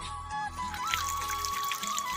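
Water runs from an outdoor tap at a home in rural India, a steady close pour and trickle with faint gurgling, alongside a low background hum and no talking.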